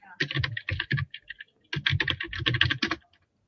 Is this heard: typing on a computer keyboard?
yes